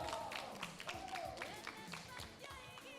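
Audience applause for the winning team at an ocean-themed quiz bowl in Palau: a faint patter of many hands clapping, with a voice talking over it.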